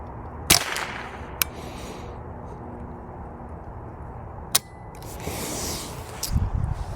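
Ruger 10/22 rifle firing Eley Match rounds, with cycling problems. Four sharp, fairly faint cracks come at uneven intervals, with mechanical clacks between shots.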